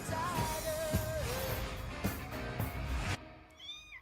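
A cat meows in an animated superhero pets movie trailer, a drawn-out meow rising and falling over music and effects, followed by a shorter plaintive meow once the music drops out.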